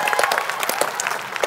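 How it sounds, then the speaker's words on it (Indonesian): Brief burst of audience applause on a television entertainment show, many hands clapping in a dense, lively patter, loud and close, with no talking over it. "Tepuk tangan dong, 25 tahun."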